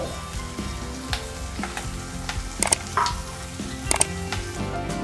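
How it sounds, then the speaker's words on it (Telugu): Ginger paste stirred and frying in a pan for a quail curry, a steady close sizzle with scraping stir strokes and a few sharper clicks of the spoon, no talk. "అల్లం పేస్ట్ పచ్చి వాసన పోయే వరకు ఇలా కలుపుకోవాలి"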